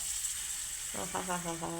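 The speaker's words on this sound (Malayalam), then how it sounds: "നമുക്ക് പപ്പടം ഇട്ടിട്ട് അതിനെ നല്ല വൃത്തിയായിട്ട് വറുത്ത് കോരിയെടുക്കാം" Steady sizzling hiss of papad frying in hot oil, with a voice starting to talk over it partway through.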